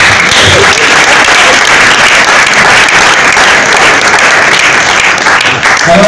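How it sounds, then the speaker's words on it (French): Loud, dense audience applause at a music award ceremony honoring artists, steady and continuous throughout. "Là, on peut applaudir pour notre Daddy."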